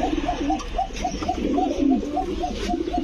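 A large king pigeon coos repeatedly up close, with a rolling, rhythmic series of deep throaty coos running throughout and a faint voice in the background.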